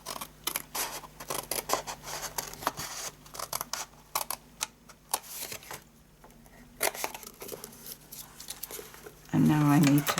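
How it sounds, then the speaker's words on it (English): Scissors trim a skinny edge off a paper card for a gift box, giving a quick series of sharp snips and crisp crackles, close up, with a brief spoken voice at the end. "So now we're going to turn it and we're going to cut this skinny edge off here."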